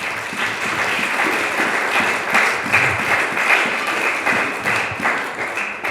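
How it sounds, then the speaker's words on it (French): A church congregation at a Sunday worship service applauds in praise of God, a dense, steady wash of many hands clapping together throughout, loud and continuous with no pause. "Acclamons pour la gloire de notre Dieu"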